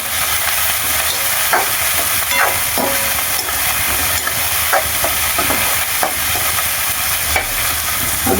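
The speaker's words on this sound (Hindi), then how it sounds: "अब यहाँ पर अब डाल देते हैं टमाटर और धनिया" Tomatoes and coriander frying in oil in a pan and being stirred, a steady loud sizzle with scraping strokes of the spoon breaking through at intervals.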